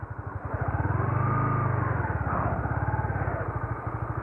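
A manual clutch motorcycle slows under engine braking in second gear, its engine a steady, close, throbbing putter that holds for several seconds and eases slightly toward the end.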